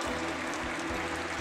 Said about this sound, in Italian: E quindi si becca il doppio applauso.